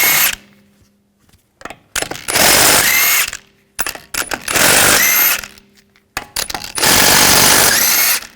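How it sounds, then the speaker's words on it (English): On a 2007-2013 BMW 328i, a 17mm socket on an air tool backs out the wheel lug bolts in three loud, close bursts of whirring and rattling, with quiet gaps and small clicks between them. "Using a 17mm socket, we want to take these lug bolts out."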